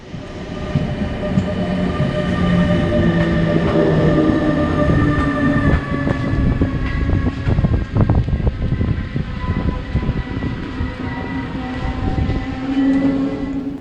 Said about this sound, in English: we are now taking a look at our train arriving at the main station of Hanover